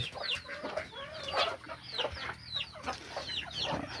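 Fighting-cock breed chickens cluck and chatter nearby in a farmyard, a busy overlapping stream of short clucks and rising calls at moderate level, with no speech.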